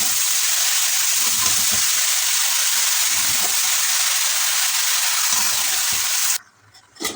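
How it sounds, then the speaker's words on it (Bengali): Gourd pieces and spice masala stirred in a hot frying pan for a fish head ghonto, giving a loud, steady sizzle and hiss with faint scraping that cuts off abruptly near the end; no talking. "ভালো করে নাড়িয়ে দেবো, মিক্স করে নেব"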